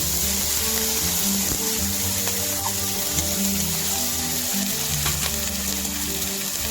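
Cumin paste and chili powder fry in a pan for a vegetarian potato and pointed gourd curry, crackling in a loud, steady sizzle close by, with occasional scrapes and knocks from stirring.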